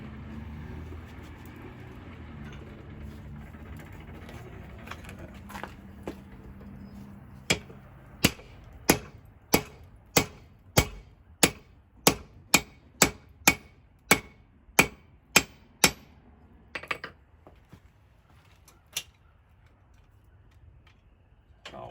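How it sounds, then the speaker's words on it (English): Steel hayrake tine being cut hot at a forge with sharp metallic strikes, about fifteen evenly paced blows ringing out close and loud after a quieter start, then a few scattered final hits. "We're gonna get a piece cut off here."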